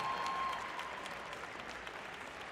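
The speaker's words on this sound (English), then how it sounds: "Give them a huge round of applause." Applause from an archery crowd at the Vegas Shoot, a steady, fairly faint wash of clapping heard at a distance, continuous throughout without speech.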